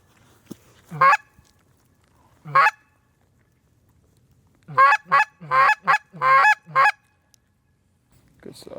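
Geese honk during a late-season goose hunt: a couple of isolated loud honks, then a close burst of several honks in quick succession, with a faint sound at the end.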